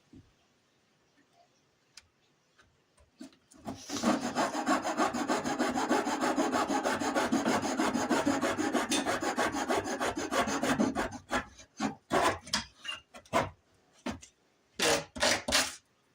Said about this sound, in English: So now we're going to go ahead and cut it at the mark we had made at 1 3/4 inch.